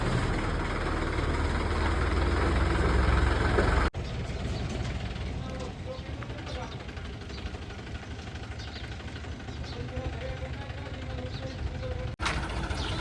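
A tractor engine idles with a steady low rumble and vibration, briefly cut off twice, with indistinct voices faintly in the background.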